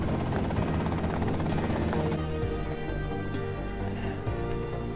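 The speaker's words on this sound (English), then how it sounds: "That's them in the chopper." Helicopter in a video game, a steady rotor buzz and drone holding level throughout under a busy game soundscape, with no talking.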